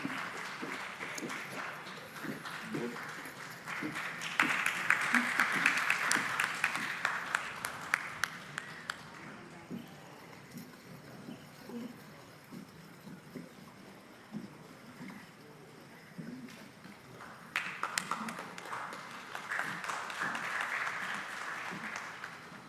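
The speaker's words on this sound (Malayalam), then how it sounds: "നല്ലൊരു ക്ലാപ്പ് കൊടുക്കാം." Two bursts of audience applause at a nature photography club's annual day ceremony in a museum hall, swelling loud then fading into quieter room murmur and scattered claps before a second round.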